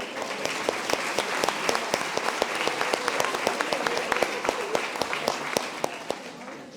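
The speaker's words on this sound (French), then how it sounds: "On l'applaudit." A crowd applauds a young woman volunteering as the last popular juror at a mock trial, with distinct claps standing out from a steady patter, moderately loud and continuous.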